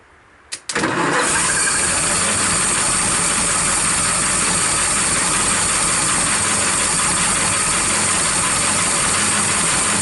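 A 1927 Elcar engine cranks briefly, catches, and settles into a steady, loud idle that runs on without pause.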